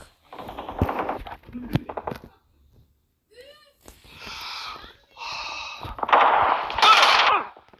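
Gunfire from a player's weapon in an online arena shooter video game: several separate bursts of rapid automatic fire, loud and close, with short pauses between them.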